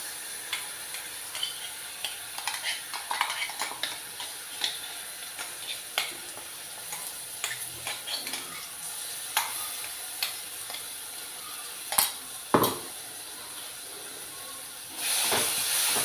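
Steady hiss and sizzle of a ground paste frying in hot tempering oil, with occasional stirring clinks and scrapes; close and continuous, no voices.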